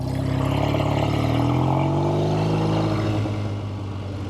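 A 1970 Triumph TR6 Tiger motorcycle engine runs steadily while riding, close and loud, its pitch rising and sliding down over a few seconds, then easing off slightly at the end, with no voices.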